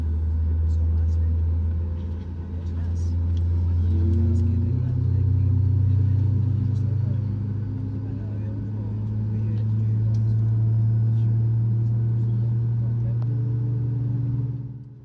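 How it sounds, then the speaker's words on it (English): Ryanair airliner engines spool up during pushback and taxi before a flight from Aarhus to Malaga, a loud steady low rumble that swells and settles, with a rising whine partway through. "Before long we pushed back and started up our engines."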